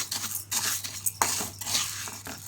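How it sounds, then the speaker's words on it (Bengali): Sugar stirred in a hot kadai to make caramel, a spoon scraping and tapping against the metal in uneven strokes with occasional light clinks, close and fairly quiet, without speech. "চিনিটাকে দিয়ে আমি এভাবে বারবার নাড়তে থাকবো"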